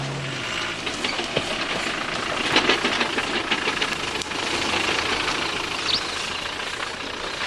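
A Land Rover Discovery on the 1995 Camel Trophy expedition in the Mundo Maya region runs with a loud, steady engine drone and rough mechanical clatter throughout, close and without voices.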